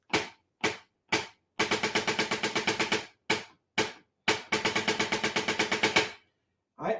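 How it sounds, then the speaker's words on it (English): Snare drum playing an all-state percussion etude with open, unbuzzed rolls: crisp single hits alternate with rapid rhythmic strings of strokes, close and dry, with no voices. "And so without my rolls being buzzed, it would sound like this."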